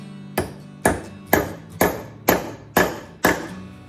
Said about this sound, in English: We're just going to tap that into the hole that we've made.